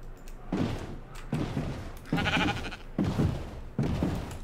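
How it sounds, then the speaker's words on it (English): Minecraft sheep bleat repeatedly in the game, five evenly spaced close bleats with brief pauses between them. "Okay, sheep, you gotta get in my boat."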